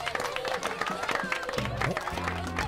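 Applause in an anime scene, a broad wash of clapping and crowd noise with some cheering running steadily through the moment, layered under music and effects.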